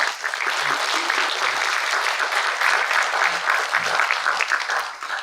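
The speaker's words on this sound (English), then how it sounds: "A big round of applause for him." Steady round of applause from a seated audience at an international psychology event, dense and sustained throughout without pause, with no talk over it.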